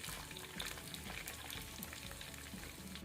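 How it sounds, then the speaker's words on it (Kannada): Medium-sized onion lightly frying in coconut oil for a Mangalorean mackerel masala, a steady close sizzle and crackle running continuously with no voices. "1 ಮೀಡಿಯಮ್ ಸೈಜ್ ಆನಿಯನ್, ಈರುಳ್ಳಿ, ಅದು ಸಹ ಎಣ್ಣೆಯಲ್ಲಿ ಸ್ವಲ್ಪ ಲೈಟ್ ಫ್ರೈ ಆಗಲಿ."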